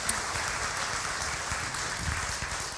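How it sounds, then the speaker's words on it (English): Church congregation at a Sunday morning service gives a short burst of steady, even applause for the worship team, moderately loud in a reverberant room, with no talk over it. "Can we give the team another round of applause this morning?"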